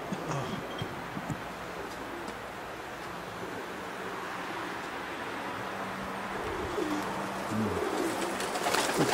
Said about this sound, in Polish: Przypominam, te gołębie są wszystkie już wystawione.